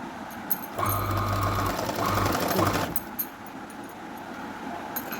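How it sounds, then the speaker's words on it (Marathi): Sewing machine stitching down a pocket on palazzo pants: a steady whirring run of about two seconds that briefly slows and then stops, heard close, with quieter clicks and handling noise before and after. "आणि मग पूर्ण अशी सिलाई मारून घ्यायची खालपर्यंत"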